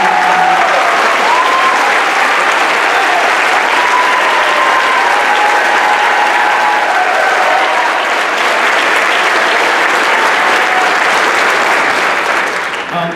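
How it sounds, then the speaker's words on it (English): Sustained, loud applause from a large audience honoring the directors of a freshman honor choir concert, a dense wash of clapping that holds for about thirteen seconds with no talk over it. "can we please give one more round of applause?"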